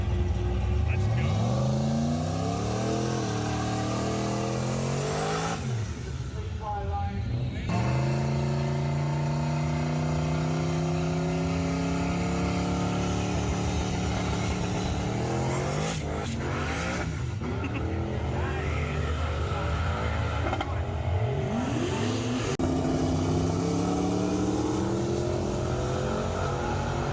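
A drag race car in the 650 limited class revs and accelerates repeatedly, loud rising engine sweeps with brief pauses between runs, under speech throughout.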